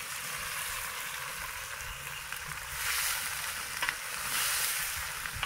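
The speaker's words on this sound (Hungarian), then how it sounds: "nem sütjük, hanem csak pároljuk a hagymát" Chopped onion braising in bacon fat in a pan gives a steady, close sizzle with a bright hissing texture that swells slightly now and then, plus a few faint stirring clicks and no talking.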